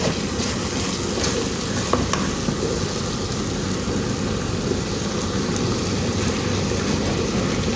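Bitter gourd and radish stir-fry being stirred in a pan, with a steady, continuous sizzle and faint scraping close by throughout.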